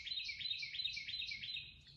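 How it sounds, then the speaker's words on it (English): A small bird chirps outdoors near a shady garden bloom, a quick, steady run of high repeated tweets over faint low background rumble. "Hear that bird?"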